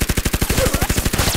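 Rapid bursts of gunshot sound effects for a militia soldier getting shot in an action scene, a fast regular string of loud cracks filling the clip with no talk.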